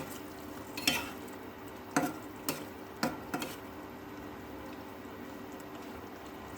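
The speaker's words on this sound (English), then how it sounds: "Add 2 TBSP yogurt. Stir until it gets mixed." A spoon stirs yogurt into a prawn malaikari curry in a pan, with a few scattered scrapes and taps over a quiet, faintly bubbling background.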